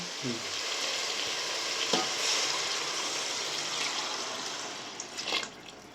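Water pours into a hot pot while cooking chicken donne biryani, with a steady, hissing sizzle that runs the whole time. No voices.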